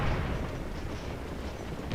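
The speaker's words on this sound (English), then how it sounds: "that was a rather effective cannon shot there" A cannon shot in the Scourge of War video game, heard as a dull booming rumble with a sustained noisy tail, loud and without voices.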